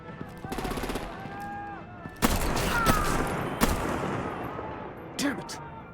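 Gunshots and heavy artillery blasts in Batman: The Enemy Within video game, scattered sharp reports and rumbling impacts at moderate loudness amid ongoing action.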